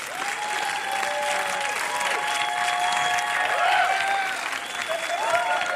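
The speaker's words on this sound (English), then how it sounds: "Do you hear the crowd kind of egging you on?" Tennis crowd applauding and cheering in a stadium, a dense, steady wash of clapping with whistles and shouts rising and falling throughout, loud and sustained.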